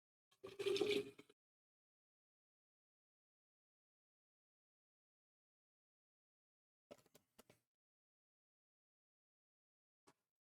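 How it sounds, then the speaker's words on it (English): Water runs briefly into a bottle being refilled, a short splashing pour lasting about a second, followed by long silence with a few faint clicks. "water's been refilled"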